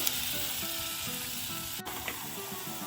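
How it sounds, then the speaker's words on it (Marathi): A dense, continuous crackling sizzle of cumin seeds in hot oil, close and loud throughout, with no voices. "तेल गरम झालं की जिऱ्याची फोडणी देऊयात"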